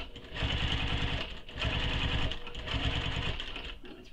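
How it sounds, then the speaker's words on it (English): Home sewing machine top stitching across a seam of a sling pack, three bursts of rapid steady needle chatter separated by short pauses, close and alone. "now we're going to top stitch across that seam"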